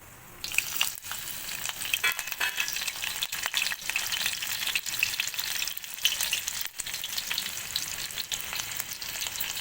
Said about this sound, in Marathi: तेल तापलेलं आहे जिरे टाकू थोडीशी हिरवी मिरची